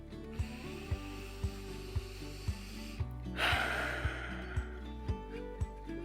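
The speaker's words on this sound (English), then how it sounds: "let's take a couple deep breaths because I feel like I need one right now" A deep breath drawn in during a guided breathing exercise, heard as one broad airy inhale near the middle over a steady background of rhythmic soft thumps, with no talking.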